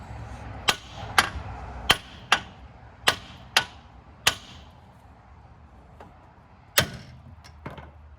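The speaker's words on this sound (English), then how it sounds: "all we really got to do is hit it with a hammer" Sharp metallic hammer strikes ring out on the outer tie rod of a Mitsubishi Mirage, about eight separate blows at uneven intervals, close and crisp with short decays over a quiet background.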